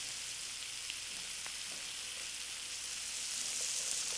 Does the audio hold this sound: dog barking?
no